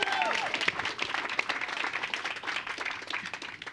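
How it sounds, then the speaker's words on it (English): An audience applauds and cheers after the launch of a Commerce Media Network is announced at a business event, with steady dense clapping and a few whoops over about four seconds. "Round of applause, everybody."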